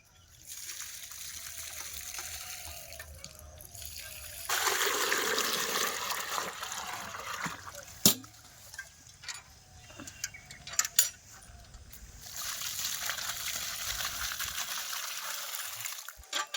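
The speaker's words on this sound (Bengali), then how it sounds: "এই গোবর দেওয়া জায়গাতে জল দিচ্ছে।" Water from a bucket is poured onto a manured patch in a home garden where bottle gourd grows, soft trickling and splashing bursts between quieter gaps, with a few light knocks.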